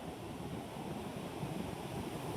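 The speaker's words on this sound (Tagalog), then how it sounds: "Malaki ng alon dito guys, lalabas ka ng dagat." Large sea waves roll in at the shore of Daet in a soft, continuous wash of surf, heard faintly from a distance with a little wind mixed in.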